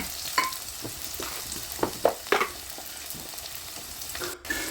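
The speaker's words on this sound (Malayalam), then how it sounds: "ഞാൻ വെളുത്തുള്ളി ഇഞ്ചിയും കൊച്ചുള്ളിയും കൂടെ ഒന്നിച്ചങ്ങ് ഇടുക." Garlic, ginger and shallots fry in a pan with a soft, steady sizzle, broken by several brief scraping stirs from a utensil.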